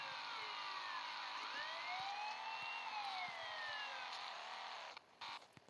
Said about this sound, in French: On va mettre les sirènes et tout.